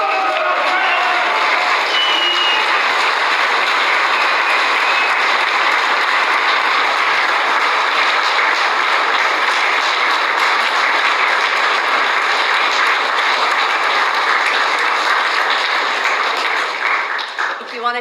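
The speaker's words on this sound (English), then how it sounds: "we're going to give him a round of applause" Sustained applause from a large audience, dense steady clapping that fills the whole stretch before tapering slightly at the very end.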